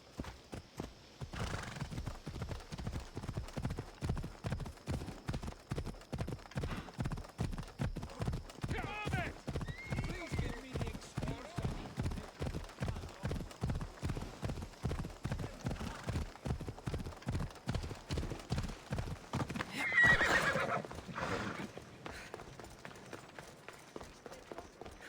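Horse hooves clip-clop at a steady gallop for about twenty seconds in Assassin's Creed Odyssey, with a loud whinny near the end while a voice speaks over the riding.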